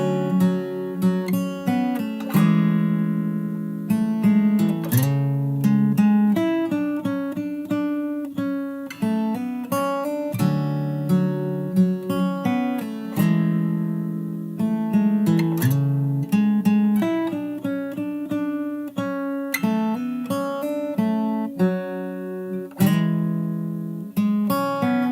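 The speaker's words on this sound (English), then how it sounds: "our entire verse so far sounds like this." Fingerstyle acoustic guitar plays the verse of a song, with steady plucked melody notes over bass notes, close and clear, with no voices.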